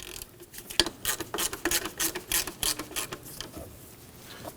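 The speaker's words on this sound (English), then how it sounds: "To do that, we need to loosen the pinch bolt." A 12mm wrench loosens the pinch bolt near the alternator of a 2003–2006 Subaru Baja, making a close, rhythmic run of ratcheting clicks and metallic scrapes, with no talking over them.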